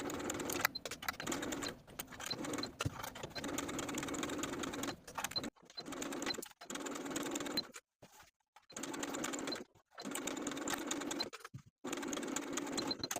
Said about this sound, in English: I'm going to edge stitch close to the folded edge all the way around the neckline